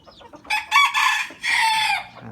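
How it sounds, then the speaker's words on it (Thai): A young Thai fighting rooster practices crowing close by, giving a loud, uneven, broken crow in a few choppy bursts rather than a smooth full call. "ไก่หนุ่ม ตัวนี้ยังไม่พร้อมครับ กำลังฝึก กำลังหัดขันครับ"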